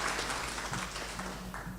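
An audience at a regional care-reform learning conference applauds, a steady wash of clapping held at an even level throughout, with no clear voices over it.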